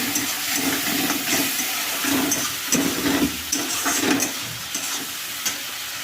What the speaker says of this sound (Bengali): এবার সব মিক্স করে নিচ্ছি।